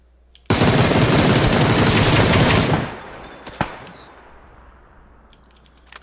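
Sustained burst of automatic gunfire in PUBG, loud and close for about two and a half seconds, then a single sharp shot and a fading tail.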